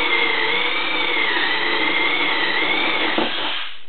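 A Milwaukee 2601 compact drill driven hard with a spade bit bores into abrasive cedar, giving a steady, loud, close whine with a sustained pitch that wavers slightly under load, then cuts off near the end; no voices.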